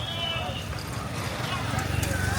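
A horse ridden around Setu Babakan clip-clops in a steady rapid rhythm beneath busy outdoor crowd noise and nearby talking voices.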